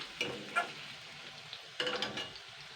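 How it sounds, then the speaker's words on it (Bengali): Chopped onion frying in a pan for a bata fish curry with gedal leaves, a quiet broad sizzle with a few sharp stirring clatters and scrapes near the start and again toward the end. "তো এইটাও আমি এর মধ্যে 2 মিনিট মতন ভেজে নেবো পেঁয়াজটা"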